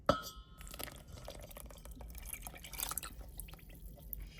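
Coconut milk from a can pours into a bowl of dry ingredients for coconut pudding, a soft liquid trickle with light dripping and a faint clink of the can against glass, fairly close and quiet, with no talking.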